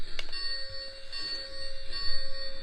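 A Lionel O gauge Polar Express toy train rings its electronic bell, a faint sustained metallic tone with a light strike near the start.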